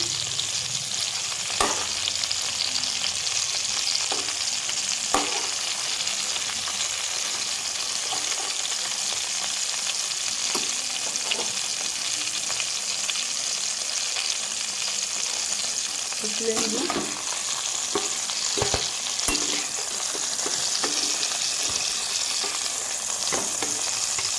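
Pointed gourd (potol) frying in oil for a vegetarian dish, a steady bright sizzle running throughout with occasional stirring clinks and scrapes, close and continuous.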